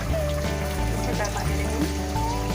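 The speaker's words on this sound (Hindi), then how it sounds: "अब इसमें हम थोड़ा सा पानी ऐड करेंगे।" Water trickles steadily into a pan of frying kofta curry, a continuous close pouring sound with faint background hum.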